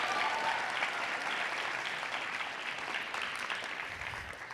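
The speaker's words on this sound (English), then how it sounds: "a round of applause for that." Applause from an audience at a school awards ceremony, a dense steady patter of clapping that holds for several seconds before gradually thinning and fading toward the end.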